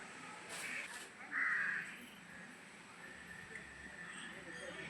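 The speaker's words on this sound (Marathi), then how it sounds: "पक्ष्यांचा आवाज, कावळ्यांचा ओरडण्याचा आवाज येतो इथं सारखा" Crows caw at a hillside temple shrine, a few harsh calls standing out near the start amid steady outdoor ambience, with faint birdsong and a low background hum.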